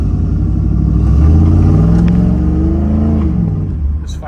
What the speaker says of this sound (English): Exhaust sounds really nice.